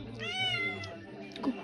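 A village cat gives a drawn-out meow, close and fairly clear, with a person's voice talking faintly alongside it.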